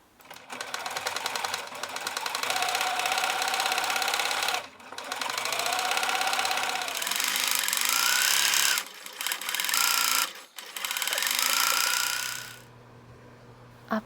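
A sewing machine stitches an appliqué onto fabric in several bursts of rapid mechanical clatter, pausing briefly between runs, close and fairly loud with no talking.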